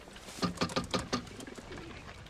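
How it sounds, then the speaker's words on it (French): Pigeons coo in a short run of soft, rhythmic calls close by, about five pulses in quick succession before fading into quiet background. "Ces pauvres pigeons sont même pas capables de faire le tour du pâté de maison."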